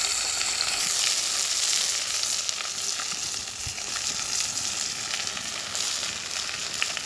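Fish curry poured into hot tempering in a pan on a gas stove, giving a close, continuous bright sizzle and crackle that holds steady throughout with no talk.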